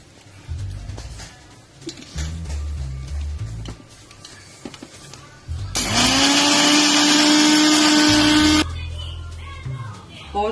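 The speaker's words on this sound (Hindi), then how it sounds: "ये बिस्किट्स हम इसमें ग्राइंड करेंगे, उसका फाइन इज पाउडर टाइप कर लेंगे" An electric kitchen grinder whirs loudly for about three seconds, grinding biscuits into fine powder, a high steady motor whine. Before it, someone talks and short rattling bursts are heard.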